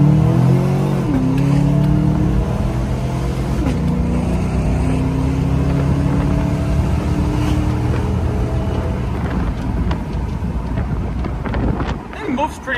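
An old Range Rover's L99 V8 pulls uphill, its engine note rising in pitch early on and then holding a strained, rough drone, with wind buffeting the microphone throughout.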